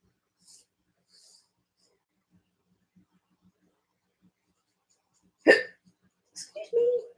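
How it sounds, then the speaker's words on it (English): A single abrupt hiccup from a person sitting close by, a short loud catch followed by a few breathy after-sounds and a brief voiced noise, with only faint quiet sounds before it. "Little hiccup."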